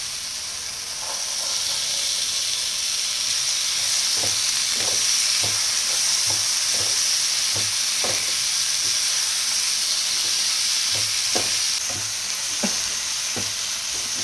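Green peas added to roasted masala and fried in a pan, a steady hissing sizzle under repeated rhythmic spoon scrapes and taps as the mixture is stirred, close and continuous.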